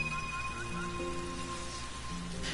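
Steady rain patters in the Sky: Children of the Light video game, a constant hiss of drops alongside soft tonal game chimes and music.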